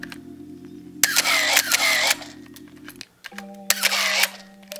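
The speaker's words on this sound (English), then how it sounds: "One thing I really do like about this is the shutter sound." A 1980s film camera's shutter fires twice, each release a sharp click followed by a whirring mechanical wind that runs about two seconds, close and clear against a low steady hum.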